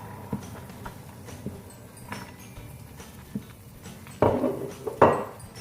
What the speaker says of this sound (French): je vais rajouter la farine en une seule fois et ne jamais cesser de remuer